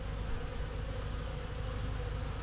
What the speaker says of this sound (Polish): A może to nie, to jest oblot pszczoły.